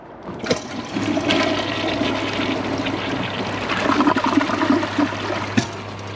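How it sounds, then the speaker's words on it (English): A Kohler Cimarron Class 6 toilet flushes with a sponge lodged in its trapway, giving a loud, close rush of water that surges and churns steadily for about five seconds before a sharp knock near the end. "I'm gonna have to give it another flush"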